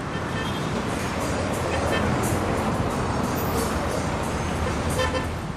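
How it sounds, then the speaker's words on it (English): An Acapulco public bus roars with dense, loud engine and traffic noise, steady throughout, with brief higher squeals and a horn-like toot from brakes and street activity. "often in defiance of the loud grunts and shrills of their brakes and engines"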